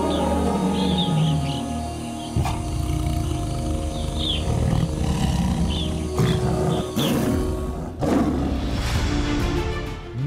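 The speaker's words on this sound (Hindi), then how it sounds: "घने पेड़ों से घिरे जंगल में गूंजती बाघ की दहाड़" A tiger roars in a dense forest, deep and rumbling under a constant wash of bird calls and chirps, with a few sharp noises.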